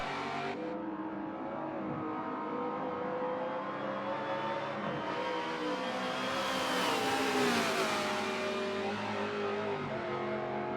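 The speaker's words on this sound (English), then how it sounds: "the sheer power of that supercharged V8 shows itself on the bridge straight" A supercharged V8 race car engine in a racing video game roars steadily along a straight, rising in pitch as it accelerates and revs hard, loud and close throughout.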